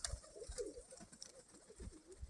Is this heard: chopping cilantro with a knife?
no